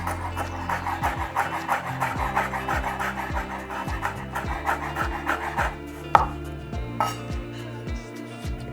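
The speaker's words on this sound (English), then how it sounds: "I'm just going to finely chop them" A knife finely chopping smashed garlic cloves on a cutting board, producing a fast, steady run of close, crisp taps with a sharper knock near the end, and no talking.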